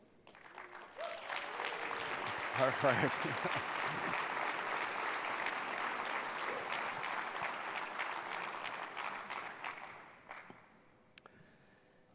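Sustained applause from a corporate conference audience honoring innovation award winners, a dense steady wash of clapping that swells, holds for about eight seconds, then tapers off, with someone speaking briefly near the start.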